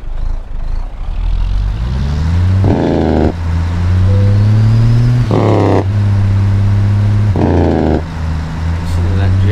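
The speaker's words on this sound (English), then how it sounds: "the sound, or engine, rather, we are using today is the Mack motor from Z Mods" A Mack truck engine sound mod in American Truck Simulator revs and climbs through gears, a loud, close diesel drone rising in pitch with distinct shift breaks, while someone talks over it.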